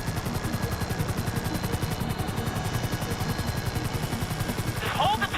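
Helicopter rotor chopping steadily in GTA V, a loud continuous pulsing thrum that holds throughout while the aircraft hovers, with a brief higher chirping sound near the end.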